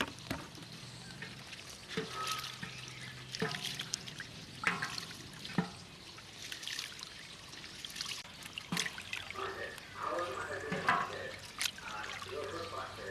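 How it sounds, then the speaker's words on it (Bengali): Basmati rice is rubbed and rinsed by hand in water, with soft sloshing, trickling and drips coming in bursts, fairly quiet and close, with a voice talking at times. "পানি দিয়ে চাউলটা ভালো করে ধুয়ে নিই।"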